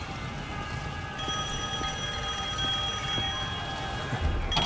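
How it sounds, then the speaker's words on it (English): Phone ringing in Devil May Cry 5: a bright, steady electronic ring tone sustained for a few seconds over low game ambience, loud and close, with faint rhythmic thuds underneath. "I guess the phone still works"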